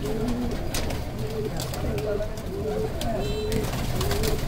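A pair of Sialkoti pigeons coo in repeated soft, rolling calls close by, set against steady outdoor noise with faint sharp clicks.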